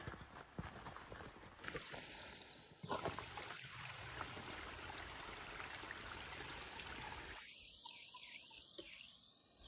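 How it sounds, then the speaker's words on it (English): Creek water flowing, a faint, steady rushing trickle heard from a distance, with a few light knocks and chirps over it and no voices. "I do hear some more water."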